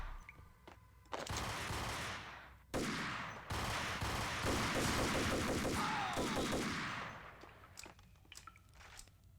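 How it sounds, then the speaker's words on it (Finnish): Bursts of gunfire from the Max Payne video game, including an Ingram, come as clusters of rapid shots over several seconds, loud and sharp with brief gaps between volleys. "Hyvä, kun täällä voi ampua single shotteja."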